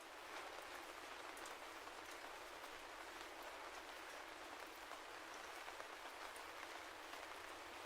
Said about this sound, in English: Then he disappears and it begins to rain.